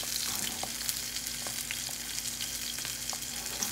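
Salmon skin frying skin-side down in a hot pan, a steady close sizzle with dense crackling and small pops throughout, no voices.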